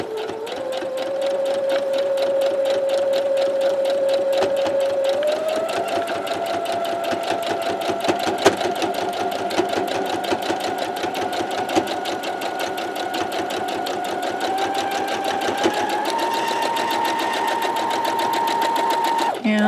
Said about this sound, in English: we're going to sew all the way off to the edge of the block.